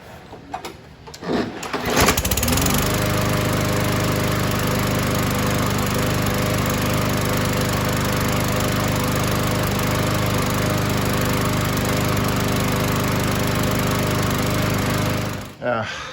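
A 2015 Yard Machines lawnmower with a Briggs & Stratton 140cc engine, carburetor freshly cleaned, starts after a brief rattle and settles into a loud, steady, close-up idle hum, then cuts off near the end.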